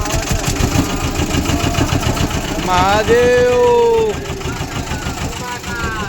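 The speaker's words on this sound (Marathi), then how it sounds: "अशा प्रकारे हे इंजिन चालू झालंय बघा" A motorboat engine runs steadily throughout, a low chugging drone, with a voice calling out loudly over it partway through, on a boat trip at Mhalunge, Mahabaleshwar, Satara.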